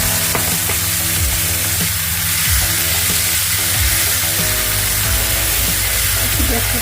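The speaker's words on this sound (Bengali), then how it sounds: "জিরে ফোড়নটা দিয়ে দিলাম, মশলাটা দিয়ে দিলাম," Cumin and ground spices hit hot oil in a pan for a Bengali-style salmon curry, giving a loud, dense, continuous sizzle with faint stirring knocks underneath, no voices.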